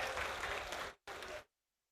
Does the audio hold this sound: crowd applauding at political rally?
yes